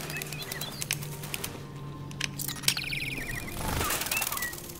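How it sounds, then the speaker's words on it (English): Robot birds flap their wings in the video game Detroit Become Human, a flurry of quick fluttering and clicking bursts of moderate loudness, with a rush of wingbeats swelling near the end. "They're AI birds?"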